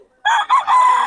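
Young rooster (stag) crowing once at a poultry market in Bocaue, Bulacan, a close, loud, slightly broken crow lasting under a second.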